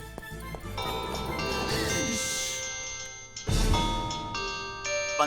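A melodic phone ringtone chimes loudly with bright tinkling tones, pausing briefly before resuming, without speech.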